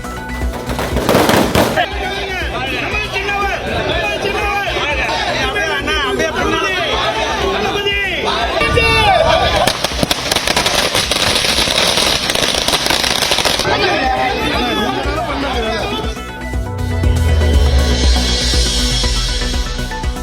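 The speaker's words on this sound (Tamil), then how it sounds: "விக்கிரவாண்டியில் வாக்கு எண்ணிக்கை நடைபெறக்கூடிய மையம் முன்பாக திமுகவினர் பட்டாசு வெடித்து கொண்டாட்டம்." Firecrackers crackle in dense, rapid bursts outside a vote-counting centre as DMK party workers celebrate an election victory, with a crowd chattering loudly throughout and a heavier rumbling burst near the end.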